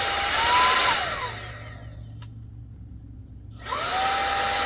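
Battery-powered mini vacuum cleaner for car and home running with a loud whine, switched off partway through and then started again, with a brief quiet gap in the middle.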